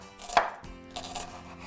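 A kitchen knife slices thin strips of pear or celery for a salad, giving a single crisp cut with a soft knock on the board, close and quiet, then faint slicing noise after it.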